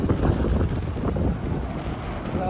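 Strong wind buffets the microphone outdoors near the sea by a mountain, a continuous loud rumbling roar with gusty surges and no speech.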